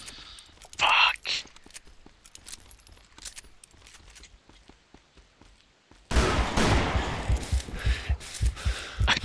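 Gunshots ring out in the Western shooter Call of Juarez: Bound in Blood, first a few sharp cracks amid quieter footsteps and clatter, then a sustained burst of rapid, loud firing toward the end.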